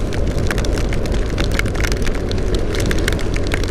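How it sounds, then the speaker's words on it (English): Hail pelts down during a ride on a BMW R1200GS Rallye motorcycle on a tour in Britain. It makes a steady, dense clatter of hard hits over a constant rushing rumble, loud and unbroken throughout. "that is proper hail"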